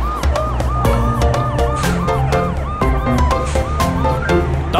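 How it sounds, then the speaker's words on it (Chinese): Cartoon police car siren from a children's song about toy rescue vehicles, a wailing two-tone melody looping steadily and loudly over a bright, busy musical backing. "红警车滴滴呜"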